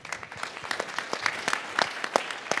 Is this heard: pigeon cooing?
no